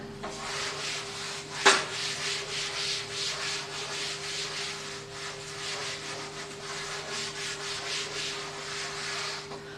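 A duster rubs chalk writing off a classroom board during a chemistry lesson, giving steady rhythmic scrubbing strokes across the whole stretch, close and moderately loud, with one sharper knock near the start.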